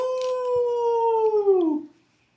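A voice imitates a wolf howl, holding one long, steady note that slides downward and fades out at the end, loud and close with no other sound around it.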